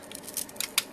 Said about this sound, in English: So now we will cut our foam